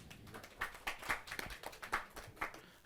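Audience clapping at a Hindi kavi sammelan poetry gathering, a brief burst of scattered hand claps at moderate distance, fairly quiet and irregular.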